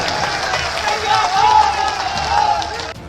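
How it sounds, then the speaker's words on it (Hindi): Large crowd of party workers at a political meeting claps loudly and continuously amid cheering and general crowd noise, with a voice over the top. "ऐसे KP के लिए जरा जोरदार दोनों हाथ ऊपर करके जोरदार तालियां बजाइए जरा"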